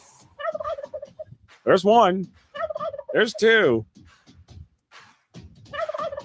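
Cartoonish turkey gobbles used as game-scoring effects: two loud, warbling gobbles ring out in turn, each following a short spoken count by a man.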